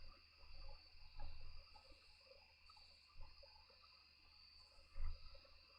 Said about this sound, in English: possibly like a little bit of a headache from the crickets